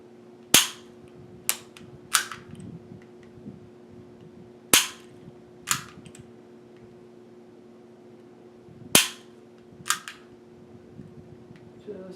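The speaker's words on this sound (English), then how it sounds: "In this case, we're dry firing it, so I have to recock it with every time." Dry firing a handgun fitted with a MantisX training system, giving sharp, close trigger and recocking clicks that come in pairs and clusters with pauses between them, over a faint steady hum.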